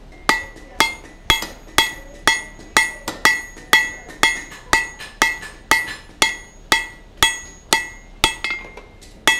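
A blacksmith hammers a steel hammer eye drift on the anvil to draw out its taper: a steady series of about twenty sharp, ringing metallic strikes at an even rhythm, each decaying quickly, close and alone.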